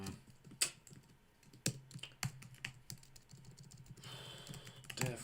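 Quiet, close keystrokes on a computer keyboard, irregular taps with a few sharper clacks spaced through the passage, no voices.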